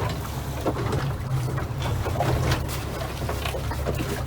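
Wind blows at sea around a small fishing boat off the Norfolk coast, a steady rushing noise over a low hull and water rumble, moderately quiet and continuous.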